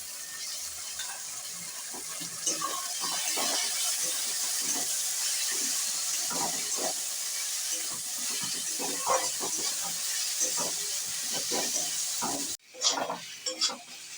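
Onion fries in a pan with ginger-garlic paste as the base for a prawn-stuffed pointed gourd dish. A steady hiss of sizzling oil runs under soft stirring scrapes, then cuts off briefly near the end.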